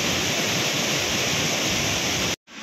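Pulang Batu Falls roars in heavy rain, a loud, steady, dense rush of water that holds unbroken for over two seconds before it cuts off abruptly.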